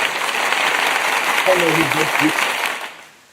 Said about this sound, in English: I'm giving myself a round of applause for that